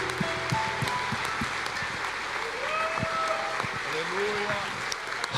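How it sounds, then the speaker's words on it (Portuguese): Clapping in a church service celebrating Israel, steady dense applause under a preacher's continuous voice and background music, loud and close throughout. "Eu estabeleço isso com palmas em nome de Jesus."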